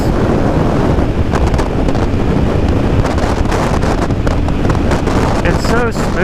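Heavy, continuous wind roar buffets the microphone while riding a 1982 Yamaha Virago motorcycle at speed. The gusting rush stays loud and close for the whole stretch, with a voice faintly underneath.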